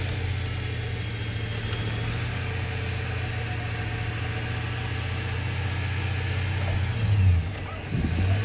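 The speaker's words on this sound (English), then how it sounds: "Called my sister to floor it in the truck." A steady engine drone of an OBS Chevy Silverado truck with a low throbbing hum throughout, briefly swelling near the end as it revs, close by and continuous.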